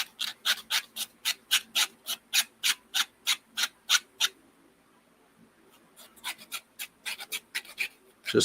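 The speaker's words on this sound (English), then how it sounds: "Because I need to be able to file down both sides of it." A small metal part for a 1:24 scale San Francisco cable car model is filed by hand in a steady rhythm of about fifteen short rasping strokes, a pause, then a second, irregular run of strokes.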